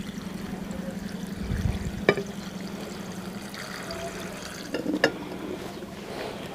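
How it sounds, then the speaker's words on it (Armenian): Water pours into a pot in a steady stream with a low gurgling tone, broken by a couple of sharp clinks of a vessel being handled; no talking. "ավելացնում ենք ջուրը"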